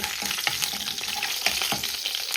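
Mustard seeds and urad dal sizzle and crackle in hot oil while tempering for garlic chutney, a dense steady frying hiss with sharp popping bursts and stirring, close and fairly loud.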